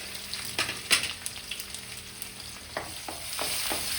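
Garlic, ginger and curry leaves sautéing in hot oil for a Kerala curry leaf pickle: a continuous close sizzle with intermittent spoon scrapes and light clinks against the pan, no talk.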